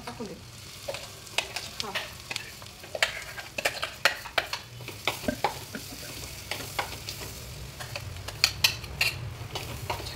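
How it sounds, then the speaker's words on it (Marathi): Masala for mutton rassa fries in oil over low heat, a steady sizzle broken by repeated sharp scrapes and knocks of a spoon against the pan, with a brief voice once. "छान सगळ्या बाजूने बारीक गॅसवर परतून घेऊ"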